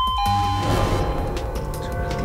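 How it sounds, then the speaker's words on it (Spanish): A doorbell rings inside a video game about a mystery surrounding the death of a killer clowns' boss, a bright chime with sustained tones ringing out over a dense, busy game soundscape. "¿Sobre el timbre?"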